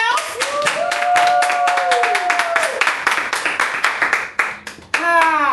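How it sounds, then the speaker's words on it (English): Intimate live crowd at a spotlight-table talk event clapping briskly and loudly in dense rapid claps, with talk, cheers and a higher voice breaking through over the hands. "Clap it up for yourselves."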